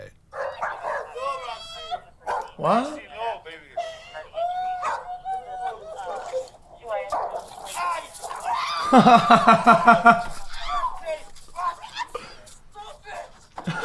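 An overexcited pet dog barks, yips and whimpers in bursts while several people talk and react around it, and the commotion peaks in a loud stretch of agitated vocalizing.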